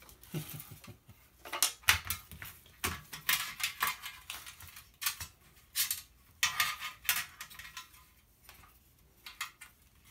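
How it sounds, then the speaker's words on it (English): Small metal clicks, taps and rattles of a screwdriver and loose parts while a pin is unscrewed from an IBM monitor being dismantled for scrap, close and irregular in quick bursts with short pauses. "if I lean it over, unscrew that, unscrew this little pin"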